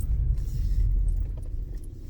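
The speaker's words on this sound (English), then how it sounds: "There's a car deciding to be in front of me." A car rolls slowly through a shopping parking lot, a steady low engine rumble close by with faint clinks on top, continuous and without speech.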